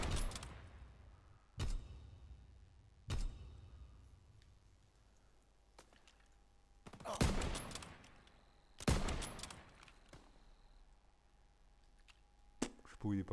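Sniper rifle shots in Call of Duty WWII, several sharp, loud cracks spaced a few seconds apart, with a double burst in the middle and faint game ambience between them.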